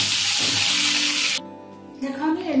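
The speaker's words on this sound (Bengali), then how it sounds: "এবার আমি পটল আর আলুটা ভেজে নেব" Pointed gourd and potato pieces frying in hot oil: a loud, close, bright sizzling hiss for over a second that suddenly drops to a quieter crackle, with a voice faintly rising near the end.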